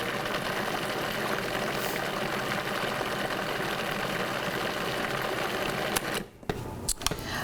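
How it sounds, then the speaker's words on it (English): Food processor whirring steadily as it blends chocolate mousse, a constant loud motor hum that cuts off near the end, followed by a few clicks and knocks. "Back on the food processor for just a moment,"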